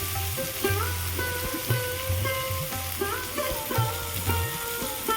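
Ginger paste fries in a pan for a Bengali Bombay duck (lote fish) dish, with a steady close sizzle and the clatter of a spatula stirring at an uneven rhythm.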